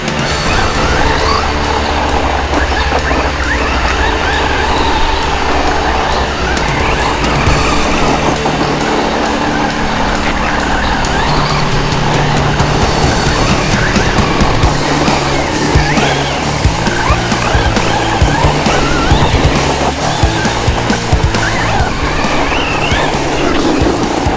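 An MJX Hyper Go 12212 RC truck drives continuously, with a loud, close, gritty motor whine and the rattle of tires over rough ground, steady for the whole stretch with no pauses.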